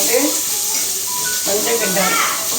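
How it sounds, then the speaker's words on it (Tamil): Onion sizzles and is stirred in a pan for a vegetable pulao, with steady hissing frying and faint scraping of the spoon while a person speaks over it. "இந்த வெங்காயத்தை போட்டு நல்லா கிண்டிட்டு"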